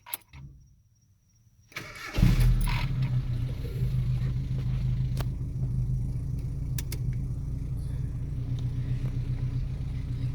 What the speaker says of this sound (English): we start the truck